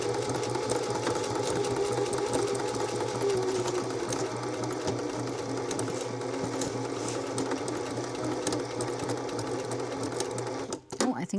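A sewing machine runs steadily, stitching a rope bowl with a fast, even mechanical chatter, with a brief clunk near the end as it stops.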